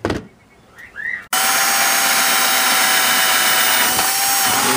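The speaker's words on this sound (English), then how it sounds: "I'm going to drill 3 holes with this" A power drill starts after a brief quiet moment and then runs steadily at high speed while drilling holes, loud and close, with a continuous whining buzz.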